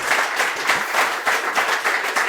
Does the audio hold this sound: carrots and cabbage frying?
no